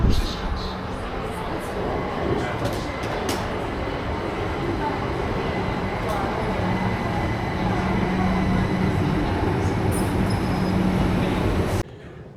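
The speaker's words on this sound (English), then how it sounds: "So here comes our train." Train pulling into a station on a journey from Gatwick: a long, steady rumble of wheels and rails with squeals and clanks, close and fairly loud, with voices talking faintly in the background before it cuts off.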